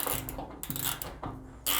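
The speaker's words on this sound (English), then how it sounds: "we need the screw that goes from the panel to the machine. So that's what we're undoing now." Screw being undone from an LG washer panel, close, quiet rhythmic ratcheting clicks in about three repeated turns, ending with a brief louder scrape.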